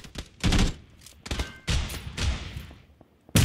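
Bursts of gunfire from a PUBG match crack out in several close, loud volleys separated by short gaps, with a final burst at the very end.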